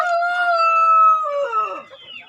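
A kampung rooster, a candidate breeding cock, crows once close by, a single long drawn-out cock-a-doodle-doo that tapers off at the end.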